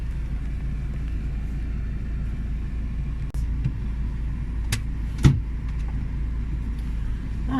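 A car's steady engine rumble and road noise from inside the vehicle while driving through a French village, continuous and fairly loud with a couple of brief knocks, no talk.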